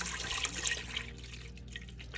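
Milk from a gallon jug pours into a pot on a stovetop, a soft, continuous liquid splash and trickle that fades slightly as the stream tapers, heard quietly without talking.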